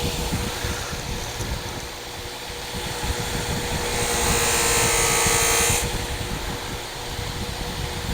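A hand tool is sharpened on a sharpener with heavy pressure, giving a steady grinding whir and hiss that swells louder and brighter for a couple of seconds midway before settling back.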